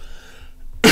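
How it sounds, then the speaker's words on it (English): One short, sharp cough bursts out abruptly near the end after a quiet moment with a faint tonal hum, close and loud. "Cough, cough."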